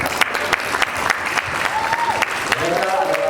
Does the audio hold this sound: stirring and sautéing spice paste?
no